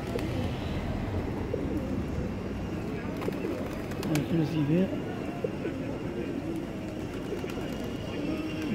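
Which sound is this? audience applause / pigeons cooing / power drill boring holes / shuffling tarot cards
pigeons cooing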